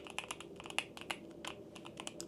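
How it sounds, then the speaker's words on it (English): Typing on a heavy all-aluminium Keychron Q1 HE keyboard with magnetic Nebula switches, a quick run of crisp, close keystrokes in an irregular rhythm with a few louder clacks. "This is the Q1HE keyboard, and it's got the magnetic nebula switches."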